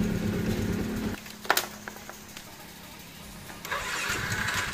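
A starter cranks an engine on a weak battery; the engine turns over hard, catches briefly with a few clicks, then settles into a low, uneven rumble that swells again near the end.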